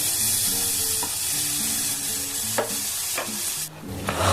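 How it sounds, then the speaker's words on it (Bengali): Sliced bitter gourd sizzles and fries gently in a little oil over a low flame, with steady frying crackle throughout and a few sharp scrapes and clacks of a spatula stirring in the pan; no voices. "একদম অল্প তেলে এত সুন্দর উচ্ছে রান্না হবে"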